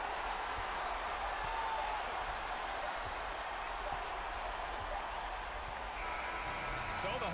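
A home crowd at a basketball game cheers and applauds its team's victory to open the postseason, a steady, dense roar of many voices and clapping that holds at an even level throughout.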